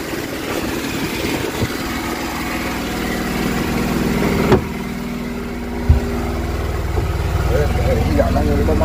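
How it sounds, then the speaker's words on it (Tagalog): A generator runs steadily aboard a traditional fishing boat at sea in strong current, a constant low engine drone throughout with a couple of brief knocks and voices talking over it. "Mapagpandar lang ng generator niya na, no?"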